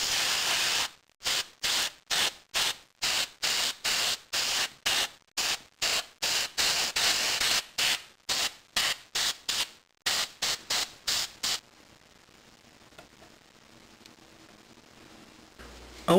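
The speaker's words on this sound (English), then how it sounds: "I'm going to use acrylic spray paint. And now I'm going to paint the main color." Short rhythmic bursts of hiss from an acrylic spray paint can painting a 1/35 scale Tamiya Jeep Willys MB model, a steady series of quick sprays followed by quiet.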